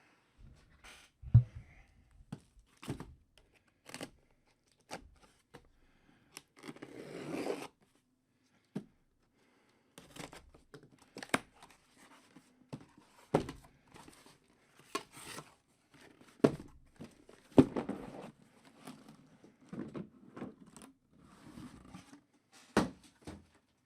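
Foil packs of 2014 Panini 75th Anniversary baseball cards ripped open one after another, sharp crinkly tearing bursts and rustling of wrappers and cards, close and moderately loud with brief pauses between packs.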